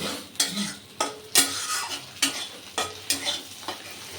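Fish fat cooking in a pan on a home stove, a sizzle punctuated by about eight sharp clinks and scrapes of a spatula stirring, close up, no voices.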